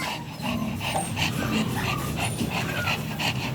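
A Shih Tzu pants rapidly and rhythmically nearby at a kennel, with faint whimpers and background noise throughout.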